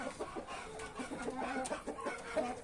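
Polish-breed chickens cluck in a steady, overlapping chorus at moderate volume, with a brighter rooster-like call rising briefly partway through and no voices.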